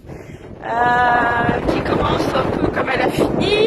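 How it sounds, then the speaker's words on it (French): Strong wind buffets the microphone outdoors in the rain, a loud continuous roar and rumble that rises after the first second, with a person talking over it. "il y a beaucoup de vent là"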